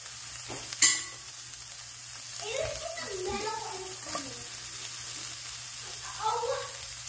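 Frozen potato chips dropped into a hot pan for desi-style tacos, starting with a sharp clatter followed by a soft, uneven sizzle and bubbling, fairly quiet and close.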